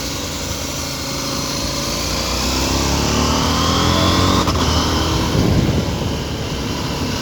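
A KTM 790 Adventure motorcycle engine hums steadily while riding at around 60 km/h on cruise control, a loud continuous pulsing drone that swells slightly midway with wind rush over it.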